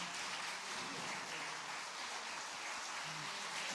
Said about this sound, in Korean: 은혜를 허락하신 하나님께 감사와 기쁨의 박수 드리겠습니다